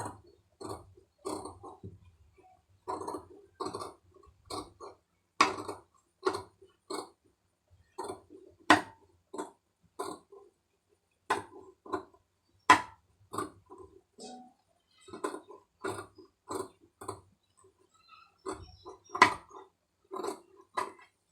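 Scissors snipping through blouse fabric along a scalloped edge: a steady run of crisp, close snips spaced roughly a second apart, some louder than others, with no talking.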